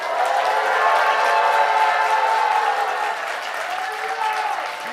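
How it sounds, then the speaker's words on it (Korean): A church congregation at a Sunday morning Korean worship service bursts into sustained loud applause and cheering, a dense crowd roar that holds steady and eases slightly toward the end. "우리 함성과 박수로 우리 주님께 감사의 박수를 치겠습니다."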